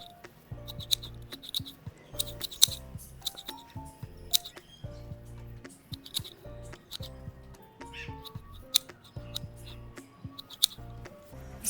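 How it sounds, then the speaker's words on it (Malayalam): Scissors trim hair with repeated short, crisp snips in an irregular rhythm, close and fairly quiet, with light handling noises between cuts. "ആദ്യമേ ഞാനിത് സൈഡുകളെല്ലാമാണ് ട്രിം ചെയ്തത്."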